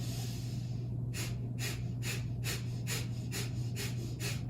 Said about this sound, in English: That's our breath of fire.